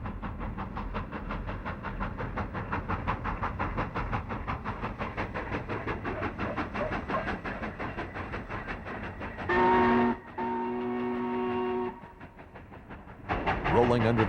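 A big cab forward locomotive rolls downhill into Colfax near a highway bridge, its engine and wheels rumbling steadily before a loud steam whistle sounds in long held blasts, followed by more rolling rumble.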